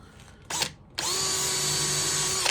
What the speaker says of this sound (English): Use one of these drill bits.